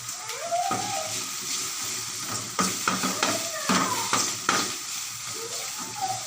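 Flower pieces fry in hot oil in a home kitchen with steady sizzling, while a utensil scrapes and stirs the pan in repeated strokes at close range.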